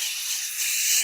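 A voice imitates the fizzing of many tiny bubbles in a sparkling Japanese drink, a steady close breathy hiss lasting about a second and swelling slightly toward the end, with no other sound.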